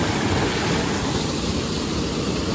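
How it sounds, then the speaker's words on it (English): A waterfall on a solo river-trail hike pours with a constant, full rushing roar, unbroken and steady, with no voices over it. "found a waterfall that I didn't know existed"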